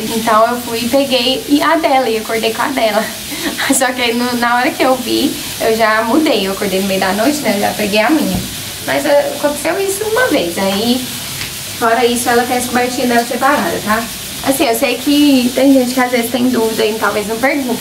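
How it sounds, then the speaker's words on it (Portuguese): Pressure cooker on a kitchen stove gives a constant, steady hiss that runs the whole time beneath someone talking continuously, with a brief laugh. "E desculpa o barulho, tá? É a panela de pressão."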